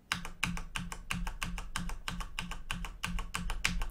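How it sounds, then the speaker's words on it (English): Rapid, even keystrokes from a CM Storm mechanical keyboard with the W key pressed over and over, each sharp clack close and distinct in a steady rhythm, with no voices. "You can hear me pressing W on the CMstorm keyboard right now."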